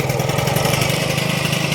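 A rebuilt Honda Dio scooter engine runs steadily after a single-click start, a loud, close, even mid-pitched idle buzz with no talk.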